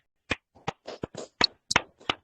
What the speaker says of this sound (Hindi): आप लोग अपने लिए ताली एक बार जोरदार ये ताली बजाएं